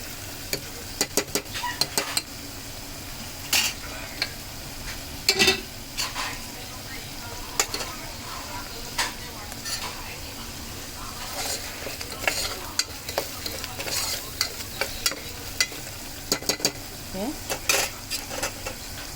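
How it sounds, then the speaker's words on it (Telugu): Ginger garlic paste and turmeric frying in a little oil, a soft steady sizzle broken by frequent clinks and scrapes of a spoon against the pot. "ఈ అల్లం వెల్లిగడ్డ పేస్ట్, పసుపు కొంచెం నూనెలో కాసేపు ఉడకాలండి."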